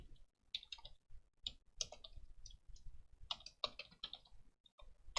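Quiet clicking of a computer keyboard while code is entered in Roblox Studio, irregular bursts of sharp keystrokes separated by short pauses, close and faint with no talking.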